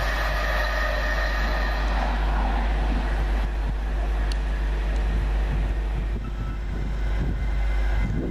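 Northbound East Coast passenger train led by electric locomotive 91110 passing near Alexandra Palace, a loud sustained rumble and rail roar, close and steady throughout.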